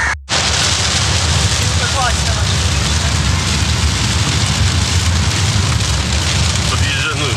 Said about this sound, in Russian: Ливень лютый просто, вокруг огромные тучи